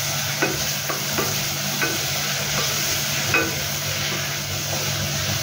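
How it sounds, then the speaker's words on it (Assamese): Tomatoes and spices fry in a pan with a constant close sizzle, broken by several soft scrapes and knocks from stirring at irregular intervals. "দি গোটেইখিনি আকৌ অলপ লৰাই দিছোঁ।"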